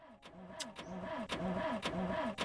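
In The Long Drive video game, a car is driven on its starter motor, giving a rapid repeating cranking whir with rhythmic pulses, fairly quiet and continuous.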